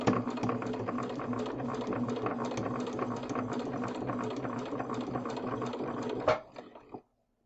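Steady, fast mechanical whirring of a sewing machine stitching a half-square-triangle quilt block, running continuously for several seconds before stopping abruptly.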